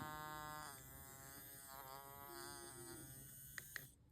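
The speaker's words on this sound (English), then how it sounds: "This is a toothbrush, actually one of the baby toothbrushes from Brush Baby, and it vibrates." A Brush Baby vibrating baby toothbrush buzzes steadily up close, a continuous electric hum with slight wavering in pitch, ending with a couple of small clicks as it shuts off.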